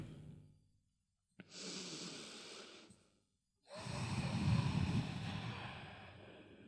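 Slow, deep breaths close to the ear during a morning breathing exercise: a faint exhale, a pause, then a long airy inhale and a longer, heavier exhale, with no talking.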